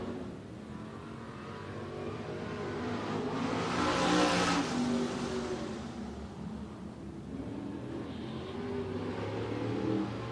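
A hobby stock race car engine at Antioch Speedway drones and swells as the car passes, rising to a loud peak mid-way then easing off, with other engines humming in the background.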